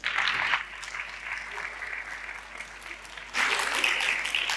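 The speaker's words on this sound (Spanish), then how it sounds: "Un fuerte aplauso, por favor." Audience applause at a tech conference talk on data and AI in Ceuta starts loud, eases to a softer steady clapping, then swells again near the end, with no voices over it.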